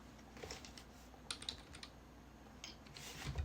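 Soft, quick keystrokes on a computer keyboard as an expression is typed into a text box, faint, scattered clicks over a quiet room hiss.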